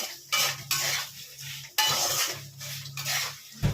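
Spiced pointed gourd sautéed in a pan, stirred with a metal spoon in repeated scraping strokes and clinks against the pan over a light sizzle, close and fairly loud, with a brief spoken word.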